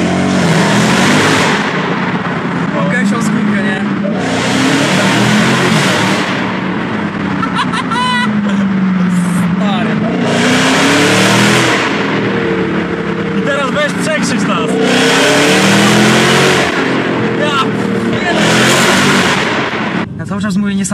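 A Dodge Challenger Hellcat Redeye with 808 hp revs hard and loud nearby in a series of long surging blasts with short pauses between them, while people talk excitedly throughout.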